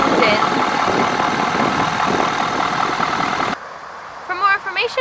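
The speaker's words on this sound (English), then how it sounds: "Under the hood is a V8 turbo diesel engine." A Ford F-250 pickup's V8 turbo diesel engine idles with a steady low rumble for about three and a half seconds, then cuts off abruptly, leaving a faint hiss and a few brief electronic tones.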